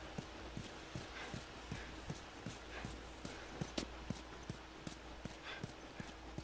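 Horse hooves clip-clop in The Last of Us Remastered, a steady run of sharp hoof strikes at moderate distance over a low ambient bed, with a brief whinny-like sound near the middle.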